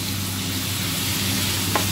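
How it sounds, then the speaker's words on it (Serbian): Minced meat and onion fry in a pan for sarma, giving a steady, close, continuous sizzle with no voices over it. "stavila sam luk da se prži meso mleveno"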